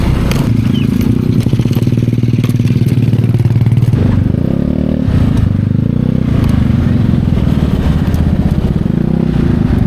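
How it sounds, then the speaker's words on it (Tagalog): Motorcycles, many of them single riders, crossing a road on a rainy night near a campsite in Daraitan, Tanay, Rizal, give off a loud, continuous engine drone with scattered clatter and thumps that shifts in pitch as they pass. "ang daming naka-single na motor dun, mga patawid"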